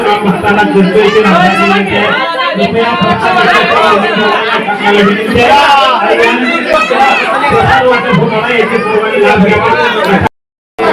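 Dense crowd hubbub inside a temple during Deepotsav darshan, with many overlapping voices chattering loudly and continuously before cutting out briefly near the end.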